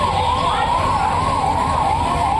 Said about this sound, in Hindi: पुलिस और फायर ब्रिगेड की गाड़ियां यहां पर मौजूद हैं